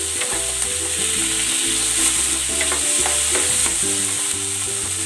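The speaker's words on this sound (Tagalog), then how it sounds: "Igigisa ko na rin tong kamatis. Lalagay ko na itong black beans." Chopped tomato and black beans sauté in a hot pan for a beef ampalaya dish, a constant close sizzle with stirring scrapes over a soft, steady backing of low musical tones.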